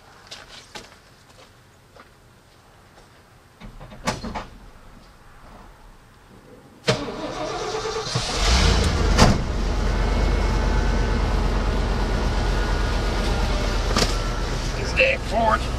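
A 1991 Ford truck with a failing ignition is started with a master key: faint clicks and knocks, then the engine catches with a sudden surge and settles into a loud, steady close idle rumble.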